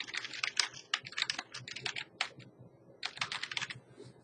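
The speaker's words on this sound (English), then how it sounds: "I just typed in something more interesting in the title field." Someone types on a computer keyboard. Rapid, close key clicks come in two quick runs with a short pause between, and no one speaks.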